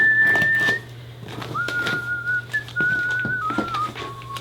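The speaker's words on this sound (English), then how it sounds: "If you whistle, he'll come." A person whistles to call a cat, a close, thin tone held in a few wavering notes and short phrases with small pauses between them. Quiet room sounds sit in the background.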